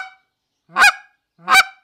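Hand-blown goose call imitating several geese at once, giving two separate, loud honks about three-quarters of a second apart, each a short rising blast with a faint tail at the very start.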